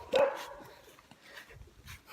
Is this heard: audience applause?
no